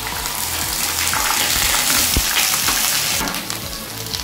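Grated onion added to a hot pan for chicken korma, sizzling and frying loudly and steadily with a brief stirring clatter, rising to a fuller hiss toward the end.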